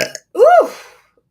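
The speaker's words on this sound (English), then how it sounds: "I haven't burped yet in this live" A single loud, close burp from a woman during a live stream, rising and falling over about half a second, alone with no talk.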